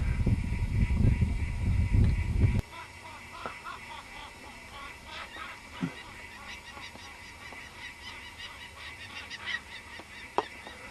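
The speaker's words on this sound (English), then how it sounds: "You can hear the falcons chattering up there." Falcons chatter near a nesting site in the Comeragh uplands: a loud rushing rumble for the first few seconds, then scattered sharp chattering calls at a distance over a quiet background.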